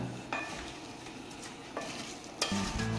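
A salad being tossed with spices and chilli flakes in a bowl makes a soft, continuous stirring rustle, broken by a few sharp clinks of a utensil against the dish. No one speaks.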